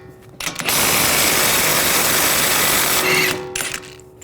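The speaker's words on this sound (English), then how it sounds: "Using a 32mm socket, take this nut off." Power tool, likely an impact wrench with a 32mm socket, spinning off the rear wheel hub nut of a 2013-2016 Dodge Dart, one loud sustained whirring burst of about two and a half seconds, close up.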